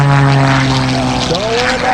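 A propeller airplane performs aerobatics at a northeastern Pennsylvania airshow, its engine droning loudly with a steady tone that bends and shifts pitch midway through a manoeuvre while people talk over it.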